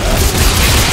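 A shotgun blast in the video game Dead Space 3, heard as a dense, loud, continuous low boom that fills the whole moment with no talk over it.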